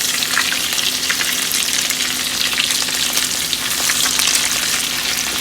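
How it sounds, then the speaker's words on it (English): Cheesy keto meatballs sizzle steadily and loudly in a hot pan as they are turned, a dense, continuous crackle with small irregular pops and spatters throughout. "I'm going to flip them over, make sure they're cooking pretty good."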